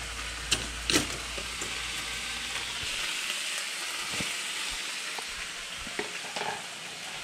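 Omelet cooking in a pan for a bison, egg and ham breakfast sandwich, giving a steady sizzle and fry hiss with a few brief scrapes and clicks of stirring, heard close up with no talking.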